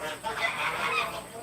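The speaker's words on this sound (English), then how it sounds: "The geese is wanting to be on video." Geese honk outdoors at a moderate distance, a short run of nasal calls blending together over faint background noise.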